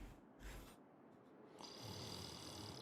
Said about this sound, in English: Oh, he's snoring.